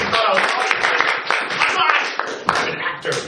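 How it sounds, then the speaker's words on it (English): A live theatre audience claps in scattered, uneven bursts for a comedy stage performance, with voices talking and calling out over the applause. "That's all you can clap for me."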